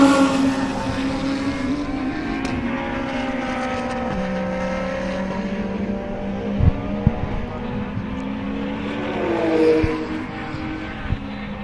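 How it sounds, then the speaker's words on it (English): A Lamborghini race car in a 2022 SA GT race at Red Star Raceway drives past with a loud, sustained engine roar. The pitch glides through gear changes and swells near the end as it closes in. No one speaks. "Here comes the Lamborghini"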